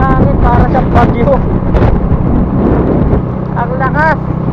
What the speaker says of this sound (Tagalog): Pero talagang malakas talagang hangin, para siyang bagyo.